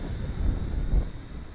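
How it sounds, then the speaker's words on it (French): Strong gusty wind outdoors buffeting the microphone during a quadcopter drone flight, a low rumbling roar that swells in two gusts, with no talk. "Voyez la force du vent, c'est impressionnant."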